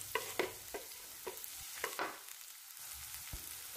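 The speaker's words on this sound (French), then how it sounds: "je vais faire venir l'oignon dans cette poêle dans laquelle j'ai ajouté un peu d'huile végétale" Onion cooking in vegetable oil in a pan over medium heat sizzles softly, broken by several sharp scraping stirs of a utensil against the pan. A brief quiet lull comes before the frying resumes, with no talk.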